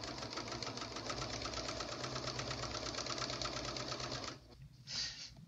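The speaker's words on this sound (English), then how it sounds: "So I'm just going to sew one direction here without any hand technique" A sewing machine stitches lightweight fabric in a steady, fast, even rhythm for about four seconds, then stops, followed by a short soft rustle.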